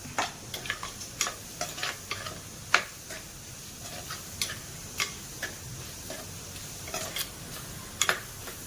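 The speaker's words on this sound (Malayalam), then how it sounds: "ഇതെല്ലാം കൂടെ നമുക്കൊന്ന് ഇളക്കിയിട്ടേ" Dried fish curry stirred in a pan with a spoon, giving sharp, irregular ticking clicks against the metal over a soft, constant sizzle, close and fairly quiet, without speech.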